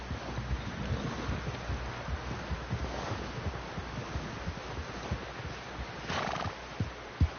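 A horse in the Red Dead Redemption 2 video game snorts and whinnies amid irregular hoof clip-clops, fairly near and soft, with a breathy burst toward the end and a faint wind-like wash behind.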